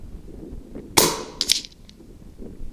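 A single sharp, close crack from a Brocock Bantam Sniper HR air rifle fitted with a muzzle brake. A couple of fainter clicks and taps follow over a quiet background.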